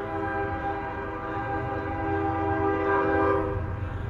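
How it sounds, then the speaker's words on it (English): A CSX coal train hauling empty coal cars rolls slowly past outdoors by a river, with a steady heavy rumble and a sustained horn tone swelling over the rolling wheels. "Coal train."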